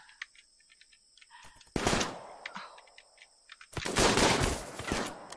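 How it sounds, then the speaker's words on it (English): In the RimWorld video game, colonists fire at attacking mechs. Bursts of gunfire come in two loud clusters over a quiet background of faint chirping insect-like game ambience. "We're going to stand here and shoot at them."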